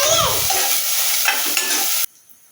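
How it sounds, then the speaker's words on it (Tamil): Small onions sauté in hot oil with mustard seeds, a loud close sizzle with stirring scrapes, then the frying noise cuts off abruptly near the end, leaving near quiet. "நல்லா வதக்கி கொடுக்கலாம்."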